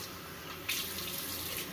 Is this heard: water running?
yes